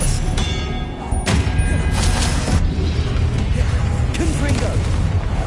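The Expelliarmus disarming spell in Hogwarts Legacy fires amid heavy combat effects, with booming thuds and sharp crackling hits layered over continuous loud battle noise while a player talks.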